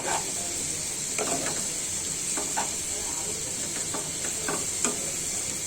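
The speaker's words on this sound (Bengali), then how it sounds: "আলু আর পেঁয়াজটা ভেজে নিচ্ছি মাছের সাথে" Potatoes and onions fry with shrimp in a pan, giving a steady close sizzle with scattered clicks and scrapes of stirring throughout and no talk.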